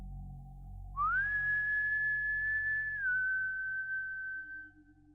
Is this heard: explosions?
no